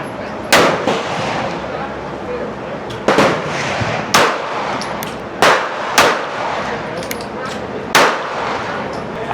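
Pistol shots at an outdoor range: about six sharp, loud reports at irregular intervals of one to two seconds, each with a short ringing tail over steady background noise.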